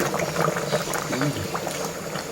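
Beef biryani gravy boils down in a pot, a steady close bubbling and simmering that continues throughout.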